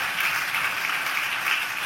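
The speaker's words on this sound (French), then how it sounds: "on peut les applaudir bien fort encore" Audience at an ethics prize award ceremony applauding, a steady, dense wash of clapping heard alone and fairly close for a couple of seconds.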